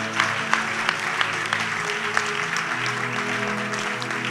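Audience in a French church service applauding and cheering before a sermon, steady dense clapping with sharp loud claps punctuating the continuous crowd noise.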